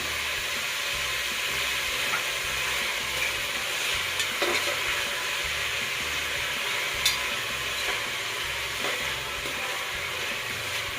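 Vegetables fry in a pan for veg green pulao with a little salt added, a steady soft sizzle with occasional stirring clinks, no talking.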